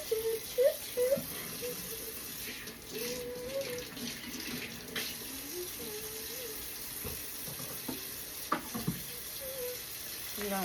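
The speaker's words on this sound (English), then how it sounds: "I'm gonna wash my shrimp" A kitchen tap runs steadily while raw shrimp are rinsed under it, a constant hiss of splashing water with occasional knocks, and a faint voice murmurs underneath.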